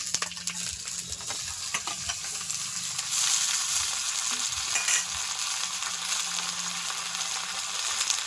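Raw, unboiled taro stolons (loti) fry in hot oil in a pan, a steady loud sizzle with occasional stirring scrapes and a brief surge as the stolons go in, no voices.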